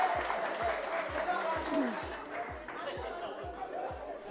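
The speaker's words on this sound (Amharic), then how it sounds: "አጨብጭቡለት።" Audience at a comedy quiz show clapping for a prize winner, soft clapping mixed with chatter and some laughter while a steady low rhythmic thump runs underneath.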